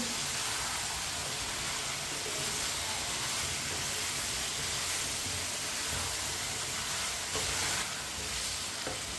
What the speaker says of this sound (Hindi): आलू को भी मिक्स कर लेंगे।